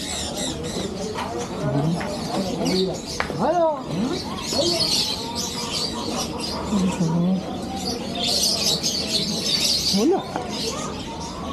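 Several birds call and coo at once inside a bird shop at Souq Waqif market in Doha, Qatar, chirps and warbling notes overlapping, while people talk briefly nearby.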